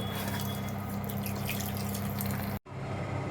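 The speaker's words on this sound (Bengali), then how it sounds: "এই যে তাল, আগে এটাকে ধুয়ে নেব।" Palm fruit (taal) is rinsed in water in a home kitchen, giving a steady close splashing and trickling that stops abruptly near the end.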